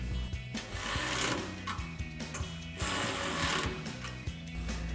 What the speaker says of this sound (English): then we'll take a 10mm socket to tighten down these nuts